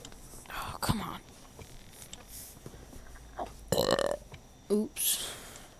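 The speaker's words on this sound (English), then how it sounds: "I've burped like 5 times today." Several burps from a person lying down, loud and close, coming in separate bursts spread through the clip with quiet stretches and some low mumbling between them.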